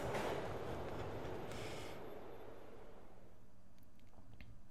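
Video-game train in Tony Hawk's Underground rumbles past with a loud broadband rush that fades after about two seconds into a softer rolling clatter, with a few faint clicks near the end.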